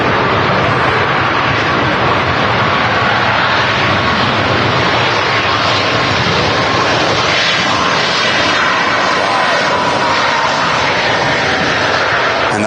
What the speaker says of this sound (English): we got the TUI Dreamliner taking off on the second runway